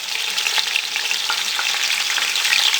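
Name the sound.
chicken frying with spices stirred in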